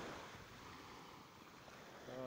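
Sea waves wash in at the public beach of Khor Fakkan in Sharjah, UAE, a faint steady surf wash mixed with wind noise on the microphone.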